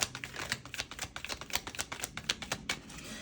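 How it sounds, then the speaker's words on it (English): Tarot cards being shuffled by hand in a rapid series of crisp, papery clicks and riffles, close and continuous with no talking. "I'm going to be doing a lot of shuffling here, you guys."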